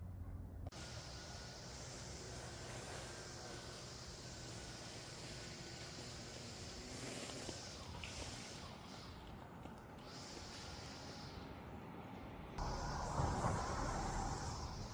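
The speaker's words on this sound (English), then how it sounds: "Noisy car tires wreck the ambiance of this pretty ritzy subdivision called Broadmead." Car tires roll over the road in a ritzy residential subdivision, making a continuous broad rushing roar of passing traffic heard from the roadside that swells louder near the end.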